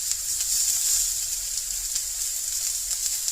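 A salmon fillet fries in a hot pan with a steady, bright sizzle, close and continuous with faint crackling pops throughout and no talking.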